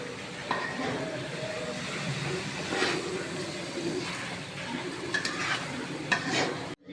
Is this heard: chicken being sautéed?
yes